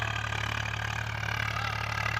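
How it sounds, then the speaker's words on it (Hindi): A tractor working a field during wheat sowing gives a steady, loud, continuous engine drone with a low, even hum, close by and alone without any talk. "यहाँ पर चल रहा है खेतों में ट्रैक्टर, और ये मतलब गेहूँ की बुवाई चल रही है अभी, और ट्रैक्टर की आवाज़ बहुत तेज़ आ रही है"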